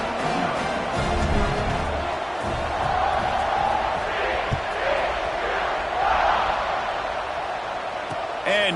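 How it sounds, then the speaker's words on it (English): A football stadium crowd at a college game buzzes steadily after a touchdown and extra point, a dense, continuous roar with scattered shouts and cheers swelling slightly at moments. "this crowd is buzzing after that last score"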